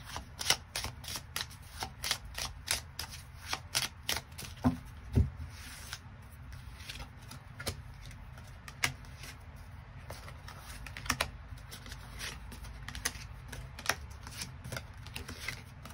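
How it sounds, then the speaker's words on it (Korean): Tarot cards being shuffled and drawn, a steady run of crisp riffling and sharp card snaps close by over a low background hum, with no talking. "추가 카드 뽑아보도록 하겠습니다"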